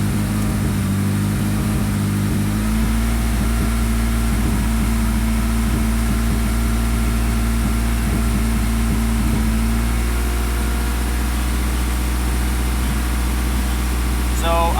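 A Mini Cooper fitted with a 4G63 engine runs steadily at raised revs, a loud continuous drone with a strong low hum and some speech over it in the middle.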